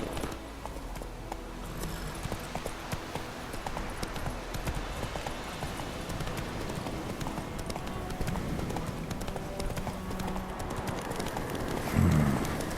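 Roach, a horse, gallops in The Witcher 3, with steady clip-clop hoofbeats running close and continuous throughout, over a faint ambient background.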